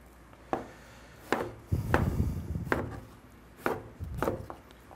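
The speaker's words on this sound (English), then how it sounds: "Chop that up." A knife chops vegetables, potato among them, on a cutting board in a firehouse kitchen: sharp, close thuds in an uneven rhythm of about six strikes, some with short scraping runs between them.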